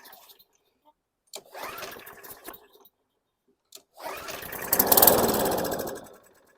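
A lawn mower engine with no blade fitted is cranked twice. The first pull sputters briefly and dies, then the second catches and runs loudly for a couple of seconds, rattly and uneven, before fading out.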